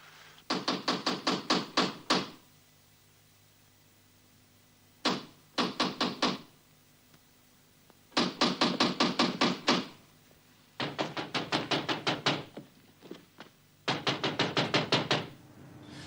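Repeated knocking on a door in several separate bursts, each a quick run of sharp raps, loud and close, with short silent pauses between the volleys.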